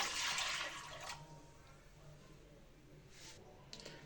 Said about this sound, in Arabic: غنزيد واحد الزلافه ديال الماء دافي، غنزيد الثانيه